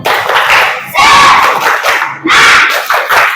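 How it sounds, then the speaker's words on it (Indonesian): A class of children clap and chant loudly together in a spirit cheer, in rhythmic bursts, with three energetic shouted phrases separated by short pauses. "Tepuk semangat"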